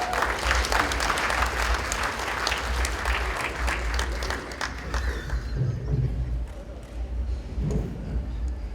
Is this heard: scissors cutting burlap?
no